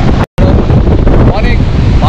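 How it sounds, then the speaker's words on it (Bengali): Strong wind buffets the microphone on Kuakata sea beach, roaring loud and continuous with a brief dropout, surf likely mixed underneath. "বাতাসের কারণে হচ্ছে দাঁড়িয়ে থাকা যাচ্ছে না"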